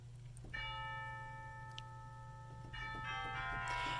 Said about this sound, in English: I play a little snippet of the last hymn just on the chimes